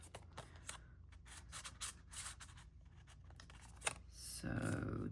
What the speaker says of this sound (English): I just need to cut that bottom part.